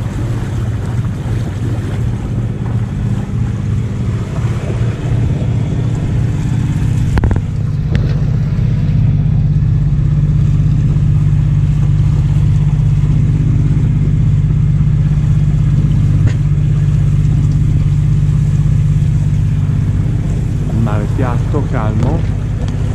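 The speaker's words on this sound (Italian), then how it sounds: "Non c'è vento, andiamo a motore" An RM 890+ sailboat motors under engine power off the Portuguese coast near Cascais, a steady low engine drone running throughout beneath wind buffeting on the microphone and water wash, with a brief knock partway through.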